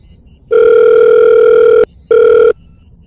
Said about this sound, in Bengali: তখনই লিসা ফোন করে বলল,